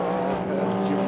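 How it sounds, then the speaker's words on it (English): Race cars dueling in a Qatar endurance race, a McLaren running close behind a Corvette, their engines giving a loud, steady roar with a tonal drone and a hint of tyre noise throughout. "this is a real battle between the 59 McLaren up behind the 33 Corvettes"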